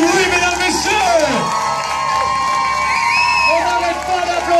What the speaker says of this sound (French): Faites du bruit, mesdames, messieurs.